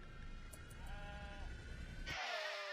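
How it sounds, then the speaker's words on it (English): Sheep bleat in the video game RimWorld, a few soft wavering cries over a low ambient game background, followed by a brighter burst of sound at the end. "let's get more sheep."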